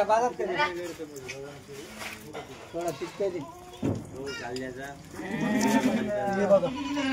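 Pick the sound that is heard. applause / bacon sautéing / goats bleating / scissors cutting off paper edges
goats bleating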